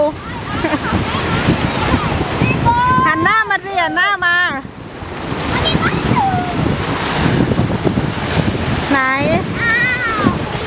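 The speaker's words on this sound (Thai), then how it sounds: "คลื่นซัดเหรอคะ" Sea waves wash onto the beach at Hua Sai with a broad, continuous rushing roar and gusty wind noise, while voices chatter and a high voice speaks over the surf.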